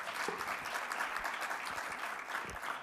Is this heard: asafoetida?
no